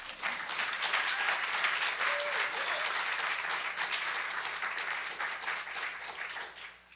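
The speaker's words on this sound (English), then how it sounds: "can we just give a round of applause for this school?" Sustained audience applause for a school, many hands clapping in a full, even wash for several seconds before tapering off at the end.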